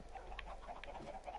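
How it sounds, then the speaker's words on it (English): Several chickens cluck in quick, soft, overlapping calls inside a survival video game, a brief faint burst with no talk. "Why are you spawning so many chickens?"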